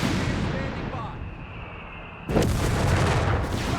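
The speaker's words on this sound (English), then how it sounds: "Shooting a bit here and there." Gunfire and artillery in Company of Heroes 3, a World War II battle between Afrika Korps and US forces, with a steady rumbling din and a sharp loud blast partway through, under brief talk.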